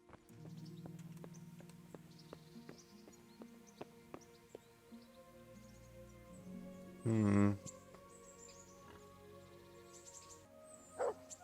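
A dog barks in the medieval role-playing game Kingdom Come Deliverance, with scattered short barks and a couple of louder sharp yelps over a quiet ambient game backdrop and faint tonal game sounds.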